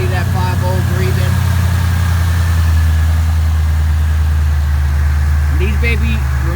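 A 2014 Mustang GT's 5.0 V8 sits at idle with a steady, loud, low rumbling beat throughout, while people talk over it now and then.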